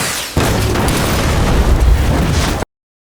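A flare gun shot ignites fuel into a huge explosion: a sudden loud boom that turns into a sustained, roaring, deep rumble of fire lasting over two seconds, then cuts off abruptly.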